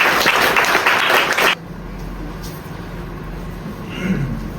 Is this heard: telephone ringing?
no